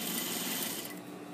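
Sewing machine stitching a half-inch seam on fabric, a fast steady mechanical whir close by, continuous for a brief moment and easing slightly near the end.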